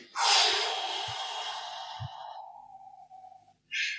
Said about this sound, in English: is just resting the tip of the tongue lightly on the roof of the mouth, and it's almost like a whoosh sound